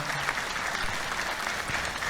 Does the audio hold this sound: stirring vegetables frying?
no